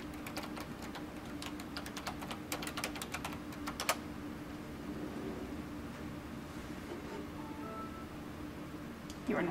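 Rapid keystrokes on a computer keyboard clatter closely for a few seconds as an email, username and password are typed into a PC in a classroom. A quiet hum remains after the typing stops.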